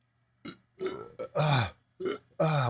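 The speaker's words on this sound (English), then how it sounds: "I got to burp" A man lets out a string of burps after chugging water, six separate croaky belches of varying length, loud and close with short silences between them.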